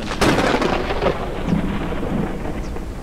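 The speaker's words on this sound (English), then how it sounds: "There has to be a way to turn that thunder down." Loud rolling thunder from the storm in the video game Forever Skies, a sustained crackling rumble that fills the whole clip with no voices over it.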